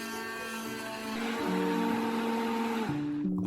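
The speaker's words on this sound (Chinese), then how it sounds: "我用的是手持的搅拌器" A handheld blender whirs steadily as it purees kimchi seasoning of pear and fish sauce, a close, loud motor drone that shifts in pitch as the load changes, with no voices.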